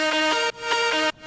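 Short synth lead melody from the third drop of an electronic track: two bright sustained phrases, each cut off abruptly, played alone with no voices.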